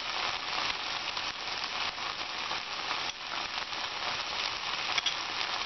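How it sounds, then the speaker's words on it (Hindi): Ground masala paste with salt frying in a hot pan, giving a steady, dense sizzle and crackle that holds evenly throughout with no voices. "और इसे अच्छे से 2-3 मिनट तक भूनेंगे।"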